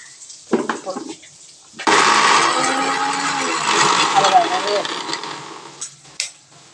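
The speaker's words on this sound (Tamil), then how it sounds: "பூண்டு போட்டு அரைக்க போகிறேன்." Mixer grinder whirs loudly for several seconds, grinding garlic, chilli powder and turmeric into a tamarind masala for tomato rasam, starting abruptly after brief talk and running steadily before stopping.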